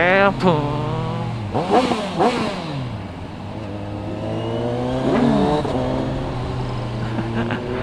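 A Kawasaki Ninja 1000SX revs up and down through repeated rising and falling engine sweeps while being ridden, loud and close with wind noise, and a person talking over it.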